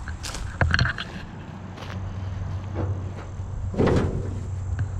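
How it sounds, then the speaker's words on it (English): Hood of a 1977 Pontiac Trans Am with a Pontiac 400 engine being opened outdoors, a few knocks and creaks of metal with a louder clunk near the end over a steady low hum. "But we open the hood here."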